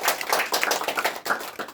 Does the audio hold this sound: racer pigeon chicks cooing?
no